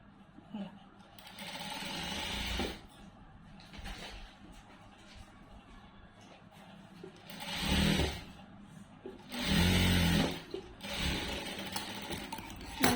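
Sewing machine with a normal presser foot stitching piping, working in several short bursts of motor whir at moderate loudness with quieter handling pauses in between.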